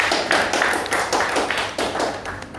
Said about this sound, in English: So an applause for volunteer